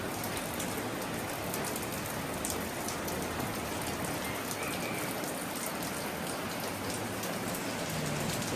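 Steady, dense rain pours onto surfaces close by with an even, unbroken hiss, no voices and no let-up.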